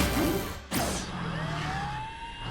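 Wailing emergency siren signal in the Car City World app game, a loud sweeping tone that rises after a sharp whoosh and holds steady, heard alone.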